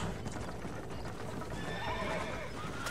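Horse-drawn carriage in the Red Dead Redemption video game: a horse whinnies and neighs over steady clip-clopping hooves and rolling wheel noise, loud and continuous throughout.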